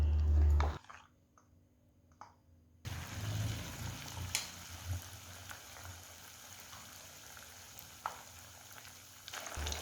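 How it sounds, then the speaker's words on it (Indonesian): Battered stuffed tofu fries in hot oil, a dense close sizzle and crackle rising suddenly after a quiet moment and continuing steadily with small pops and bubbling. "Celupkan tahu ke dalam bahan pelapis, kemudian goreng."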